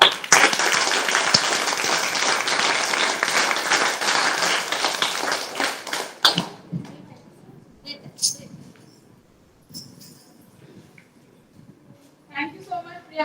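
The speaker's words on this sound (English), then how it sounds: "Hands up, clap, go." An audience at a school Constitution Day celebration claps loudly and steadily for about six seconds, then the applause stops abruptly and only faint scattered sounds and quiet voices remain.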